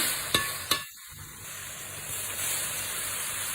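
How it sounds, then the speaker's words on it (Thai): Pork stir-fried in a pan with egg, giving a steady, close sizzling hiss that fills the whole stretch after two sharp utensil clicks near the start. "หมูนะจ้าใส่หมูลงไปเลยจ้าพักหมูให้สุกก่อน"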